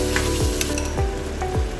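Pork ribs coated in tomato sauce and tomato paste sizzle steadily in a pan for a caldereta, with three distinct scraping stir strokes cutting through the frying hiss; no talking.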